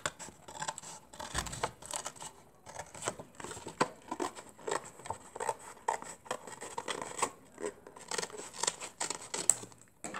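Scissors or a blade cutting down one edge of a cardboard box, a steady run of close, crisp snipping and crinkling cuts with small pauses, alone without talk.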